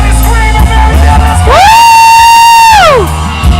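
Concert crowd at a country show with a song, loudly screaming and cheering in a sustained roar, one long rising and falling whoop soaring over the massed yelling.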